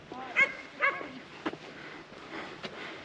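A farm dog on a homestead gives a few short, high yips and whimpers close by, spaced over a quiet background with faint outdoor noise.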